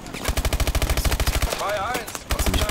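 Rapid automatic gunfire in Call of Duty Advanced Warfare, a fast run of evenly spaced loud shots, a brief pause with a warbling electronic tone, then another short burst of firing.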